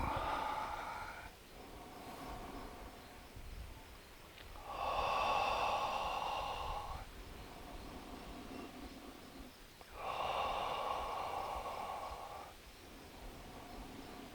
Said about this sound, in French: J'inspire, j'expire, j'inspire, j'expire.